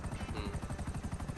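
Helicopter in GTA V, a rapid rhythmic rotor thump with a whirring engine tone, steady and fairly faint, pulsing evenly throughout the short moment.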